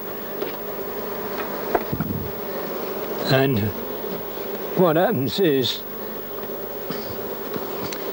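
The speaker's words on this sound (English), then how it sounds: "the bees come up the side and get the syrup, which is put in here." Bees gather at a floating syrup feeder, giving a steady, close buzzing hum throughout, while a person talks briefly over it.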